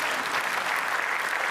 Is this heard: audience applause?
yes